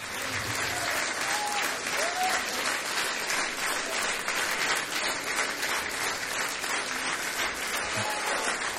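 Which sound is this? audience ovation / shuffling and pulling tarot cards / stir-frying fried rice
audience ovation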